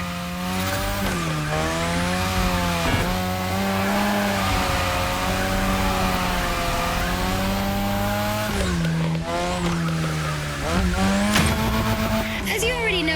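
A car in The Crew Motorfest drifts around a drift track, its engine droning steadily while tires squeal in long sustained howls, with pitch dips and revs as it swings through corners, loud and close.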